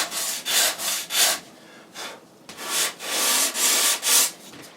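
Hand sanding on a wooden helm console piece for a boat refit, a series of close, rasping strokes in uneven rhythm, about eight passes with short pauses between them.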